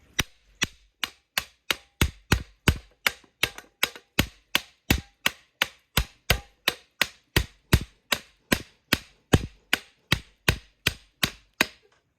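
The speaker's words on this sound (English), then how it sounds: "I need a bigger hammer, but this is just good for starting it off" Steady, evenly spaced hammer blows, about two per second, driving a rotary clothes line ground spike into soil, sharp and close with no talking.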